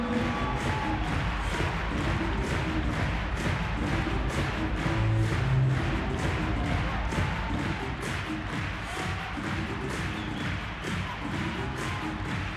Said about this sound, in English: Keep that clap going, ladies and gentlemen.